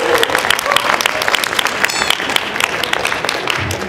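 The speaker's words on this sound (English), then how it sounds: "Let's clap for Ray." A crowd at a climate conference event claps for Ray, a brisk, dense burst of applause close by with a few scattered cheers, steady throughout the few seconds.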